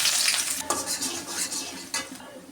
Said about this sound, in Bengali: এখন আমি পেঁয়াজ দিয়ে দিলাম